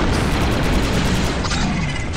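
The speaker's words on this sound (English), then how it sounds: "The charge is set and ready to detonate." A planted detonation charge explodes in the video game Republic Commando, giving a loud, dense blast with crackling debris and rapid bursts of gunfire that fill the whole moment.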